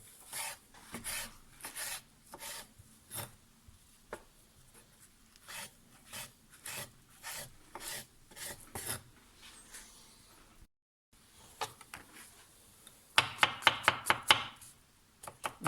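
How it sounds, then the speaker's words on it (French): A knife chops mushrooms on a board in a steady run of crisp, close taps, about two per second. After a short pause comes a quicker, louder burst of cuts, and no one speaks. "On va commencer avec couper les légumes comme ça."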